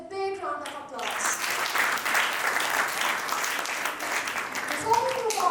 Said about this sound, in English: So I request you all to encourage them with a big round of applause.